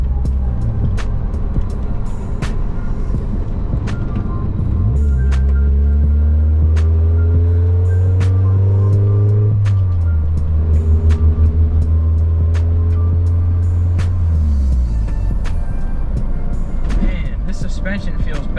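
A Mazda Miata on upgraded wheels, tires and coilovers launches hard, its engine climbing in pitch through the gears with a brief drop at each shift. The revving stays close and loud, with someone talking over the drive.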